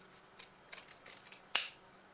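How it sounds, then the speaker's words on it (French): Pinking shears snip through fabric while a sewn baby sleeping bag is trimmed: a series of crisp, close cuts in uneven rhythm, ending with one louder, sharper snip. "à l'aide de mes ciseaux cranteurs"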